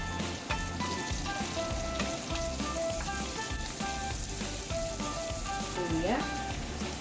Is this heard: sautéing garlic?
yes